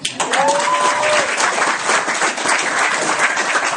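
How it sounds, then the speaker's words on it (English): An audience at a weight-loss talk gives a dense burst of applause that holds steady for several seconds, close and loud, with a brief voice at the start. "Give her a big round of applause."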